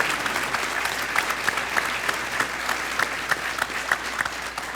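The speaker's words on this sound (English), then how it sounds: "let's give a round of applause for these three" Steady audience applause fills a hall for three panel speakers at a faith forum on addiction, abuse and recovery, a dense sustained patter with some louder individual claps standing out and no speech.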